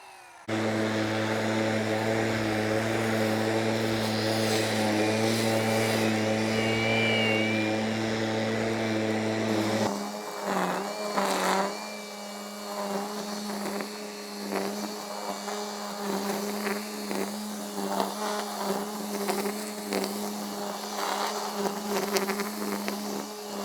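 A brush cutter with a metal blade runs as a steady, high-pitched motor whine while trimming vegetation. The tone holds for about ten seconds, then drops in pitch and wavers with load as the blade cuts. It is close by and no one speaks.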